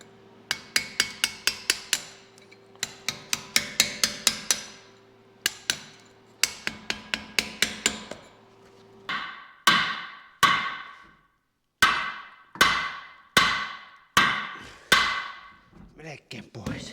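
Sharp metallic hammer blows ring out in quick bursts, then slower, heavier single strikes with ringing decay, close and loud, as a bolt is driven out of a Zetor 25 tractor axle hub.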